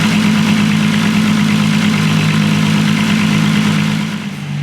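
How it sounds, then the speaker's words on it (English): A Volkswagen Golf R32 with a turbocharged VR6 engine idles on a dyno, a steady loud low drone with a constant even rumble that dips slightly near the end. "So we got Ved's car back on the dyno"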